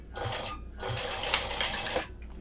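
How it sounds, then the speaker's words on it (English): Sewing machine top stitching 1/8 inch along the outer edge of bulky fabric, running in steady close bursts with brief pauses between stitching runs. "But you're just sewing the outer edge at"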